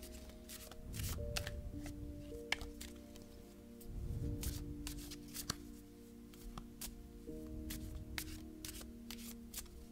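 Angel oracle cards being shuffled by hand at close range, several bursts of riffling and slapping separated by short pauses, with a soft steady tone humming underneath.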